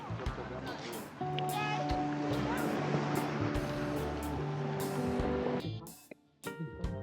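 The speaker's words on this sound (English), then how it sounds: "You hear the water running, right? The water, the back and forth." Sea waves wash back and forth on Negril's Seven Mile Beach in Jamaica, a steady broadband surf wash with engine-like hum from a nearby boat, people talking over it, easing off toward the end.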